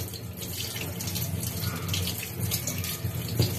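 Tap water runs steadily into a sink while a barracuda fish is washed under it, a close, continuous splashing rush with small shifts in the flow.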